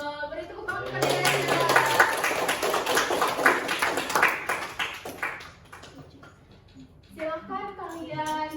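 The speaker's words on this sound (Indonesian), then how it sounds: "Beri tepuk tangan kepada dia." A classroom of students claps for a classmate, a burst of scattered hand claps lasting a few seconds, with a teacher's voice talking before and after.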